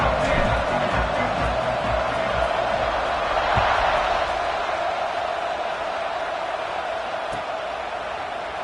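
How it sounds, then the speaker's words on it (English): A football stadium crowd buzzes after a touchdown, a dense, continuous roar of voices that swells briefly midway and stays steady to the end. "this crowd is buzzing after that last score"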